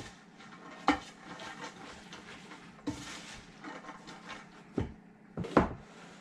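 A spoon stirs sweet corn with butter and water in a pot, giving soft scraping and a few sharp clanks against the metal, fairly faint and close, with no talking.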